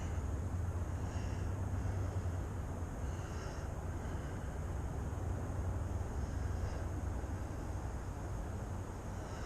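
A drone flies into the wind while scouting a new build site, giving a steady whirring hum under constant broadband wind rush. The sound is even and continuous throughout, with no talking.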